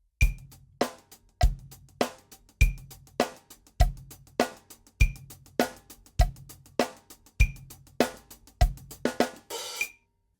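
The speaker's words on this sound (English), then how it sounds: "So we're going to move to 16th notes on our hi-hats, which would sound like this with the metronome." Steady quick hi-hat strokes in even sixteenths, accented on each beat, with a metronome click on the pulse and a brief splashy crash at the end.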